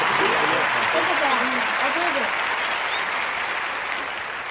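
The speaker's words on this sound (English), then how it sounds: "Oh, clap it up." Steady applause from a crowd fills the whole stretch at a constant level, with voices mixed in beneath the clapping, fading slightly at the end.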